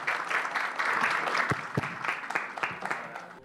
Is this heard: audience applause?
yes